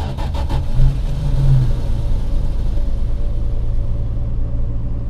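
A 1974 Plymouth Valiant engine, choke likely set, cold-starts with a short cranking burst and catches, then settles into a loud, steady, rumbling idle close by.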